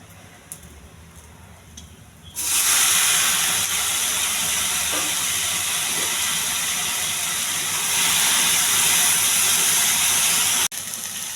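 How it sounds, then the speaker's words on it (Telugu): Boiled okra hitting a hot mustard-seed and cumin tempering in oil sizzles loudly with a steady broad hiss that starts abruptly and holds, swelling slightly near the end, alone with no voices. "ఈ ఉడికించిన బెండకాయ వేసి"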